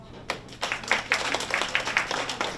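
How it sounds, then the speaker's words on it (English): Scattered audience applause at an evening opening ceremony held at the United Nations headquarters, a few separate claps building into a light, uneven run of clapping with a low hum underneath. "Okay, applause."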